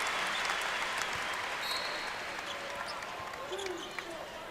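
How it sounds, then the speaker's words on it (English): Crowd at Allen Fieldhouse giving a sustained ovation during a Nebraska vs Kansas college basketball game, broad roaring applause and cheering that holds steady and slowly eases, with a commentator's voice over it. "the 7-footer will come out to a nice ovation here from the crowd at Allen"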